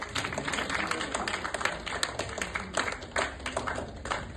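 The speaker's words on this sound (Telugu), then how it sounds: "ఒక్కసారి వీళ్ళందరికీ గట్టిగా క్లాప్స్ ప్లీజ్" An audience at a training session claps steadily, with many hands giving a dense, continuous patter at even loudness throughout.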